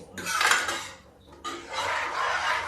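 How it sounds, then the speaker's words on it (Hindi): A spoon scraping and clinking against a pot while potatoes are stirred in buttermilk over a medium flame, two close bursts of metallic scraping separated by a brief pause. "मीडियम फ्लेम पे इसको हम ऐसे ऐसे घुमा के चलाते रहेंगे।"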